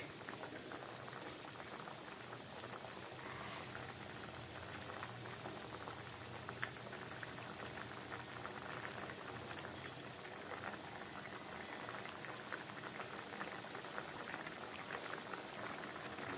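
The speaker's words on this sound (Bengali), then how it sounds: "মাছটা ফুটে উঠেছে" Khoira fish curry bubbles at a full boil in a pot, a soft, steady, continuous burble of liquid heard close and alone, with no talking.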